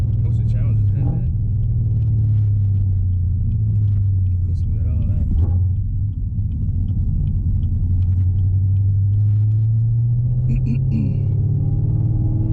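A 2018 Camaro ZL1 1LE with full exhaust and manual gearbox, its deep exhaust rumble droning steadily throughout, swelling and easing with engine speed, with someone talking over it.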